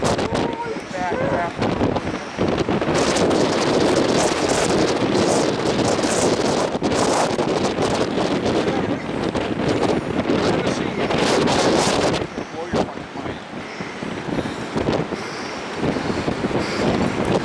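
Strong, gusty storm wind at Lake Superior roars and buffets the microphone continuously, loud and close, with rushing surges that ease briefly near the end.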